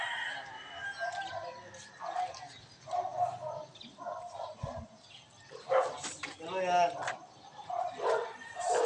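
Dogs bark in short bursts at a rural spot at sunrise, with roosters crowing and people talking in Filipino throughout, the barks moderately close and mixed in with the voices.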